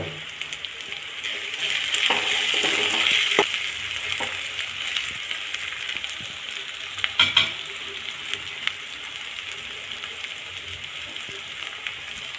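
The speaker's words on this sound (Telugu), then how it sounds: "అల్లం వెల్లుల్లి పేస్ట్ వేసుకుందామండి, 1 స్పూను." Ginger garlic paste with turmeric fries in a pan for an egg and dried fish curry, a loud steady sizzle that swells early then settles, with occasional stirring clinks and scrapes.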